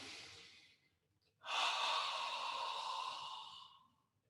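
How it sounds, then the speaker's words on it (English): Deep breathing during a yoga class: a softer inhale, a brief pause, then a long, loud open-mouth exhale lasting about two seconds, close to the microphone with no talking. "Give yourselves 2 or 3 deep inhales, and open mouth exhales is absolutely fine."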